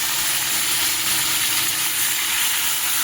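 Pumpkin and potato pieces hitting hot oil spiced with bay leaves and dried red chillies, giving a steady, loud, broadband sizzle and hiss that carries unbroken throughout with no voices over it.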